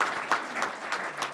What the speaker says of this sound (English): So round of applause for our winners.